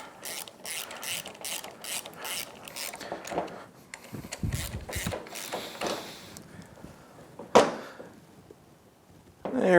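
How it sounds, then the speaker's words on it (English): A ratchet tightens bolts on the cylinder head of a Yamaha F225 outboard during a powerhead rebuild, giving bursts of quick close clicking with pauses, clanks and handling noises between them. "Let's use our bolts to go ahead and bring"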